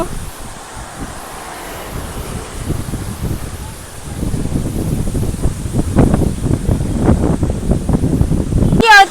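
Gusty wind roars and buffets the microphone, with rustling leaves that grow stronger in the second half.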